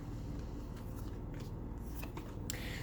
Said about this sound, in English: The last shuffle here.